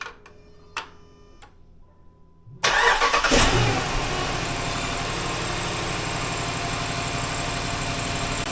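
A 5.7L Hemi V8 in a Jeep Grand Cherokee cranks and fires after a few quiet clicks, then settles into a loud, steady idle that runs to the end.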